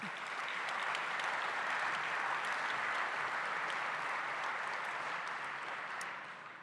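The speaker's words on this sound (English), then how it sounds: "a round of applause for Dr. Rink" An indoor audience at a fundraising dinner gives Dr. Rink a steady, full round of applause that stays even throughout and tapers slightly at the end.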